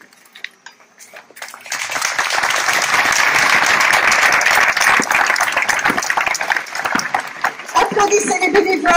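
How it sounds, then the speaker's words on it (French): A large crowd applauds loudly and steadily at the opening of a medieval festival in Josselin, with a brief quieter stretch at the start before the clapping swells and holds, plus a few voices mixed in. "Applaudissez les artistes qui travaillent pendant de longs mois pour vous concocter des animations de qualité."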